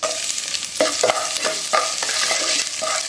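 Garlic and mustard seeds fry in hot oil with a close, busy sizzle while a spatula stirs in regular scraping strokes about every half second.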